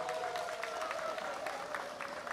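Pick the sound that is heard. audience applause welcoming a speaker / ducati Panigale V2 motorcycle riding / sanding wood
audience applause welcoming a speaker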